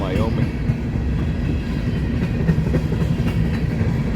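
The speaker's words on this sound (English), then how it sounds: "This is an empty coal drag heading west, both BNSF and UP." An empty coal drag of BNSF and UP locomotives and hoppers heading west out of the Powder River Basin, rumbling and clattering steadily close by, wheels clicking over rail joints in a loud continuous roll.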